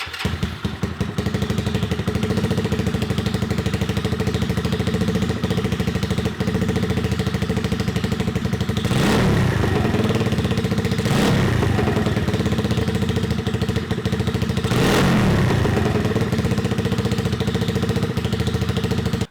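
A custom-built budget scrambler motorcycle engine idles steadily with a mechanical clatter, then revs up sharply three times before settling back to idle.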